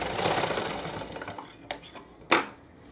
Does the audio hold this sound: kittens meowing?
no